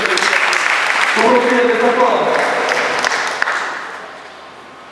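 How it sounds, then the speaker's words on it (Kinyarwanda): Wedding guests clap loudly together in a sustained round that tapers off toward the end, with a voice speaking over the applause. "Reka tukomere amashyi"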